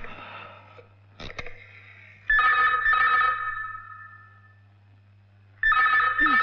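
A telephone bell in a Hindi drama rings in two loud, steady bursts with a quiet gap between, after a couple of sharp clicks at the start.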